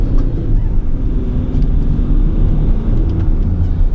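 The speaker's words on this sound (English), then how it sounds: "So a little first and second gear pull for us." A Land Rover Discovery 3 pulls hard through first and second gear, its engine giving a loud, steady low drone that holds without a break for the whole stretch.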